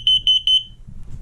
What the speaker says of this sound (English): You see that we have a carbon monoxide and propane detector.